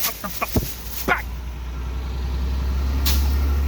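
A truck rumbles low and steady nearby, with a few short knocks early on and a sharp burst of air-brake hiss near the end.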